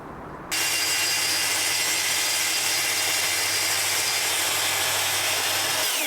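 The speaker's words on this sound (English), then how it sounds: "I've borrowed this amazing track saw off a friend" A borrowed track saw cuts through wood in a van build, starting with a sudden loud whine that holds steady and close for several seconds, with no talking over it.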